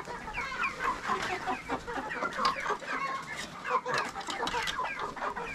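A flock of farm chickens and roosters clucks steadily in a busy, overlapping chorus, close and fairly loud, with scattered sharper calls and no talk.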